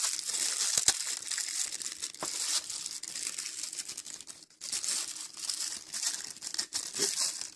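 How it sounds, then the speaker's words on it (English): Plastic packaging for a mic stand desk clamp is crinkled and ripped open by hand, giving a continuous close crackling and tearing with brief pauses and no talking. "This one I actually have to rip open."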